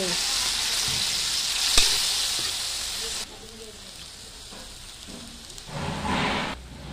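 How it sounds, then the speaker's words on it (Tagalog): Pork hits a pan of sautéed vegetables and is stir-fried, a dense hissing sizzle that drops off sharply midway, then quieter frying with a short burst of louder hiss near the end. "lagay natin yung pork, halo-haloin natin ng mabuti"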